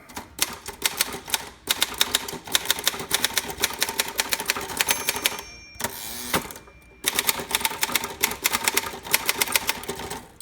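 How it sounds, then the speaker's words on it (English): Rapid, loud keystrokes on a 1950 Royal KMG manual typewriter, steady bursts of typing with a short pause near the middle, then the clatter resumes at an even rhythm. "So I'm going to type that again."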